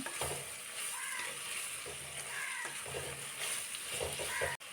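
Sliced onions frying together with coconut pieces in a pan for a beef curry, a steady close sizzle with occasional stirring scrapes running throughout.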